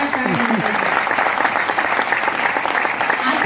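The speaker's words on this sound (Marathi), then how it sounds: "त्या व्यक्तीसाठी खरंच एकदम जोरदार टाळ्या." A crowd of audience members claps steadily and loudly, a dense, sustained round of applause lasting a few seconds with no break.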